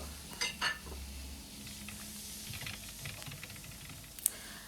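Tomatoes sautéing in a pan for a Tamil fish curry give a soft, quiet sizzle with scattered light clicks and scrapes of stirring, plus a few sharper taps near the start and one near the end.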